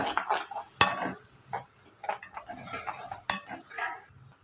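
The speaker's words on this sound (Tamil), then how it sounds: "லைட்டாக கலந்துக்கலாம்" Soft sizzling of onion, carrot, cabbage and beans frying in a pan for veg fried rice, with intermittent scraping and stirring sounds and a couple of sharp metallic clinks.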